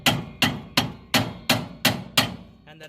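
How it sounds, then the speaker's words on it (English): Hammer blows on the steering knuckle of a 1966 Ford Mustang coupe, seven sharp metallic strikes at an even, steady pace, loud and close with no talking. "I hit it a few times with a hammer right here, right here, and right here"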